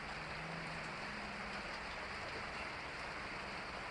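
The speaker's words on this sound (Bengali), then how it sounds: "যতক্ষণ বৃষ্টি চলে বৃষ্টি পড়ে ততক্ষণই আমাকে থাকতে হবে" Heavy rain pours down steadily, a dense, even hiss of drops hitting surfaces nearby, with no pauses or voices.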